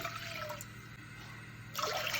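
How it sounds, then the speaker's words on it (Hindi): Water poured into a deep pot to start a sugar syrup for jalebi, a close, steady splashing pour that eases off briefly mid-way, then surges again near the end, with no talking. "अब इसमें हम 2 कप पानी ऐड करेंगे।"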